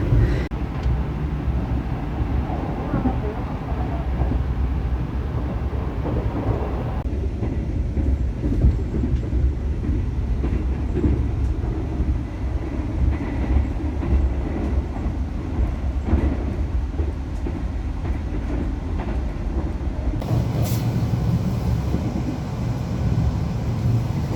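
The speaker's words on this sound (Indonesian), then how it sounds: "ini dia interior dari kereta api Manahan tambahan kelas eksekutif" Steady rumble and rattle inside a moving executive-class carriage of the Manahan passenger train, constant and enveloping, with faint clicks of the rails and no talking.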